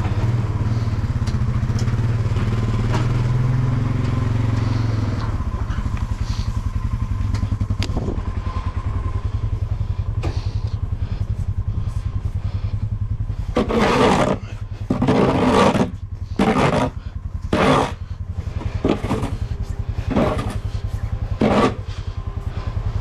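ATV four-wheeler with a snow plow blade runs its engine steadily throughout, loud and close, with a series of rougher revving bursts and clattering pulses in the second half as it maneuvers through snow.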